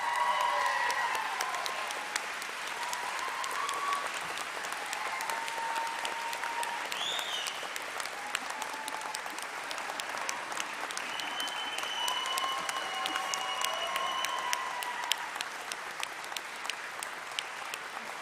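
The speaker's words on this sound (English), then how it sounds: "I would like to invite you, the graduates of 2023, to stand and show your appreciation to those who have supported you by giving them a round of applause" Graduates at a university graduation ceremony applaud their supporters, a steady clapping from a large hall audience heard at a moderate distance, continuing evenly throughout with faint scattered whistles.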